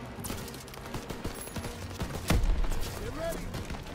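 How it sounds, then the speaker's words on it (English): Rifle and machine-gun fire rattle through a Call of Duty: WWII battle, a quick run of sharp shots with one loud close blast, under shouted soldiers' voices and combat noise. "they need cover fire! Suppressive fire! Keep firing!"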